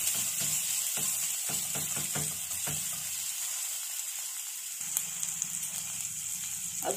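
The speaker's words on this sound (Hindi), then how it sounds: "बस कुछ सेकंड के लिए इसे सॉटे कर लेंगे।" Coarsely crushed coriander seeds sautéing in a hot pan for vada pav, a soft steady sizzle with scattered scraping and stirring clicks from a utensil, with no talking.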